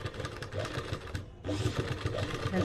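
A sewing machine stitches a salwar bottom with a dense, rapid whirring hum, broken by a brief pause midway before it resumes close and steady.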